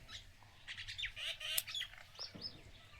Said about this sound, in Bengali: সকাল দিয়ে আজ শালিক পাখিগুলো এত ডাকছে কেন?